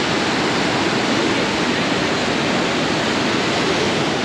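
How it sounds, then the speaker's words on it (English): Iguazu Falls roars as a dense, steady, loud rush of falling water with no breaks and no voices. "I need to find out how many liters of water is just getting flushed out of the Iguazu"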